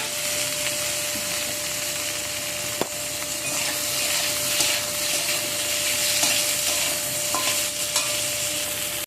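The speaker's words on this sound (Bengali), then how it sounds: "চিংড়ি মাছগুলোকে ভেজে নিচ্ছি।" Shrimp fry in oil in a pan for a broccoli dish, giving a steady, close sizzle with occasional stirring clicks and no talking.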